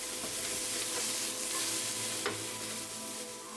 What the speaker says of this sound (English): I'm going to saute this up a little bit further